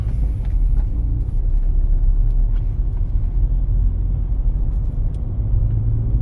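Minibuses pulling away in city traffic, heard from inside a car during a driving test route: a steady, loud low engine and road rumble fills the whole stretch with no voices.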